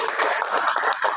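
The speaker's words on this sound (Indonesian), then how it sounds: "Tepuk tangan." Brief clapping from an audience at an Indonesian public speaking seminar, a short burst of several hands patting in quick irregular rhythm, fairly close.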